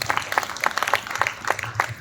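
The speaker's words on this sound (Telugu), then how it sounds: "బిగ్గరగా చప్పట్లు కొట్టి ప్రభువును మహిమపరచండి" A church congregation at a gospel revival meeting clapping loudly together, a dense run of rhythmic, evenly spaced claps with a roomy crowd feel.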